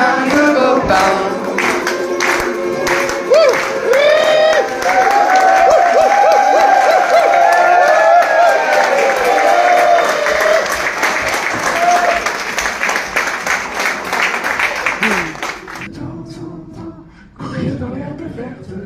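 A large crowd at a World Laughter Day gathering in Bordeaux applauds loudly and steadily for about fifteen seconds with cheers and voices mixed in. The clapping then stops abruptly and a brief burst follows.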